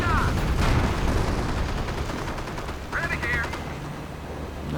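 Artillery and machine-gun fire in a real-time strategy video game battle, with rapid gunfire bursts and heavy booms layered under continuous commentary from a caster.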